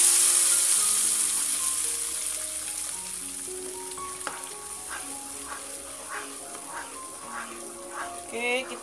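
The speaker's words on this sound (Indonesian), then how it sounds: "setelah kita tumis dan sudah mulai meletup-letup seperti ini" Ground peanuts stir-fried in oil sizzle and crackle with scattered sharp pops, steady and close, growing a little busier toward the end.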